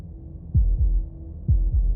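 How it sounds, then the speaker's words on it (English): A heartbeat in the video game Slay the Princess, two deep lub-dub thumps about a second apart over a low steady hum, heavy and close. "That was the sound of a heartbeat"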